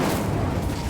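Incendio fire spell cast in Hogwarts Legacy, a loud, dense fiery boom filling the whole second with no pause.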